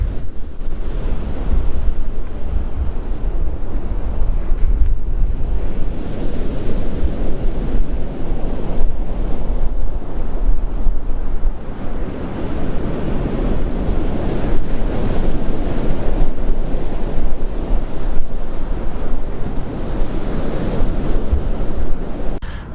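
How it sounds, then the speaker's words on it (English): Ocean surf washes in continuously, heavy waves lapping and rushing on the shore while cold wind buffets the microphone with a loud, steady roar throughout, no voices. "I'm gonna walk up here so you can hear the waves lap and watch them"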